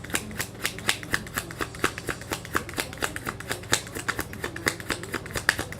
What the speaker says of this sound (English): I'm just pulling cards.